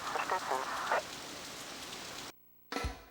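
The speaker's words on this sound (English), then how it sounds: "the explosion caused water to fall down like it was raining" Steady hiss of water pouring down like rain after an aircraft carrier explodes in the shooter game Under Defeat, with a brief burst of splashy noise, then a sudden cut to silence before a short noisy return.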